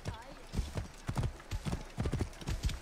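A horse gallops in Assassin's Creed Origins, its hooves clip-clopping in a quick, steady rhythm close by while someone talks over the hoofbeats.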